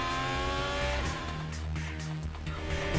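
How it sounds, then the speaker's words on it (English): Formula 1 race cars, including a Ferrari, battle side by side in an overtaking move, their high-revving engines droning loudly and continuously with shifting pitch as the cars pass. "it's Leclerc in the Ferrari, and it's Kevin Magnussen, the other car, who's part of the overtaking battle"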